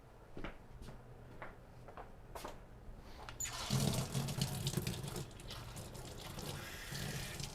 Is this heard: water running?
yes